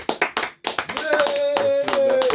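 A quick run of sharp hand claps from an audience, uneven and close, fading after a moment into a sustained voice with a steady tone.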